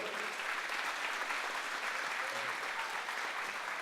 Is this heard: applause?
yes